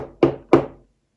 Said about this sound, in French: quelqu'un vînt devant leur porte frapper et appeler